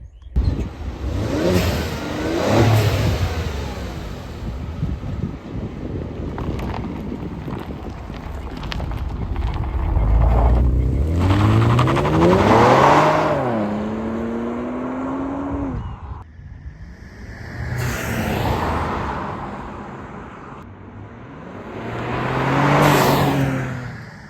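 Kia Stinger twin turbo fitted with a blow-off valve drives past several times, each run a loud rising rev and whoosh that swells close and then fades, with quieter gaps between.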